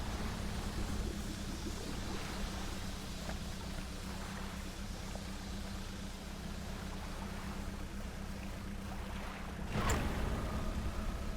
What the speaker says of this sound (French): là il y a un bateau que tu viens d'entendre